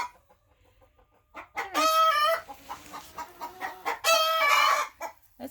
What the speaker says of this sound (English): there are a lot of chickens in here